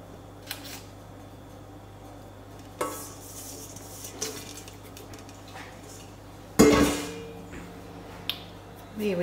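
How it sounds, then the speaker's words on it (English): Anzac caramel slice topping mixture stirred in a bowl: sparse clinks and scrapes of a utensil against the bowl, with one loud knock partway through and quiet pauses between. "I'm just going to thoroughly mix that together"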